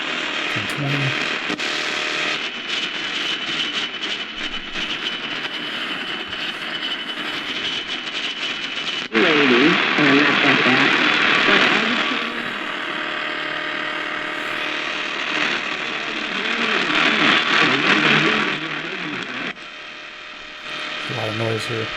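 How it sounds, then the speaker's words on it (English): Broadband hiss and static crackle from a Kaito KA900 Voyager Max portable radio tuned across a noisy shortwave band in the evening, steady and fairly loud with a brief surge in the middle and faint tones drifting through. "A lot of noise here on this section."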